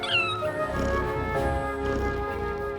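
A cat meows over a steady music bed, the tonal call standing out briefly near the start.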